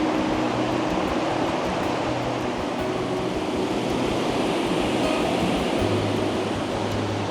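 Steady broadband rushing of river water flowing toward a waterfall in Dublin, Ohio, continuous and fairly close with no voices.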